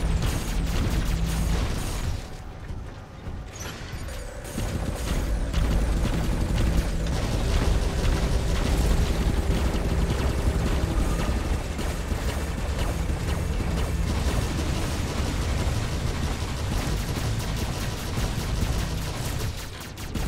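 A Zmej robot's Murometz, Bulava or Kisten weapons firing in the War Robots game, a dense continuous roar of bursts and mechanical clatter lasting throughout, loud and steady with a brief drop near the start.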